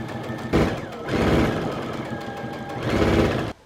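A sewing machine runs zigzag stitching on a car seat cover made with lace, in two short close bursts of rapid mechanical whirring with a brief pause between.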